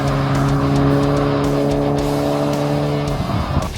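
A car fitted with AirLift Performance air suspension powers around a long sweeping race-track corner, its engine droning loudly and steadily as the tyres squeal briefly near the end.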